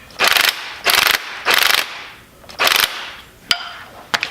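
A ratchet wrench clicks rapidly in four quick bursts while tightening during a header install on a Nissan Xterra. Two sharp metallic knocks follow, close and loud.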